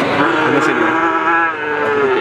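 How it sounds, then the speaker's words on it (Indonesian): A calf moos loudly and continuously at a livestock market, one long, drawn-out bellow that stays close and strong throughout, with faint market noise behind it. "Nah, ini ada sapi"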